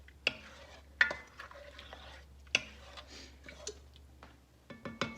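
Spoon scrapes and clinks against a cooking pot as blackberries are stirred, a few sharp knocks spread across a quiet background with soft wet shuffling in between.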